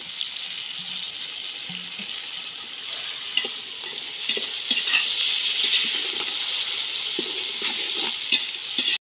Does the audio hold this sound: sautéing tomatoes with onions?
yes